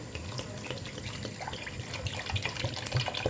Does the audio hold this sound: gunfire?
no